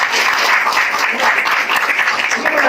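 An audience at an Indonesian YES sales community gathering breaks into dense, sustained clapping, loud and even for the whole stretch, with a voice faintly present beneath it.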